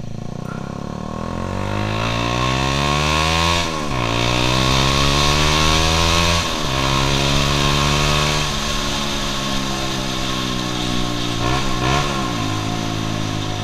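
A Honda CBR150R Repsol Edition fitted with a homemade exhaust revs loudly and up close, its engine note climbing and dropping in several sharp throttle blips over a steady rumbling idle.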